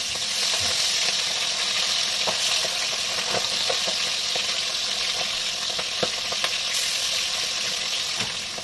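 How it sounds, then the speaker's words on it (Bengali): Pabda fish sizzling steadily in hot oil in a pan, a dense continuous crackle with scattered sharper pops throughout, close and fairly loud with no talking. "তেল গরম হয়ে গেছে, এরকম মাছগুলোকে আমি দিয়ে দেবো।"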